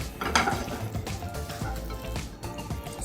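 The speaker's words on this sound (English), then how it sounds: "So it is sizzling, so it's nearly ready." Pancake batter sizzling in a hot oiled frying pan, a close, dense crackling hiss with small clinks and stirring noises, steady throughout a few seconds.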